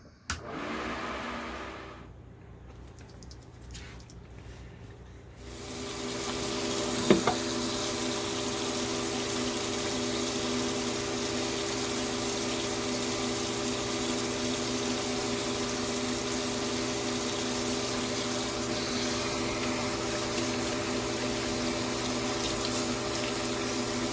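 A food dehydrator drying marshmallows kicks on with a steady, moderately loud fan whoosh and low motor hum that carries on unchanged after a quieter start, with no talking.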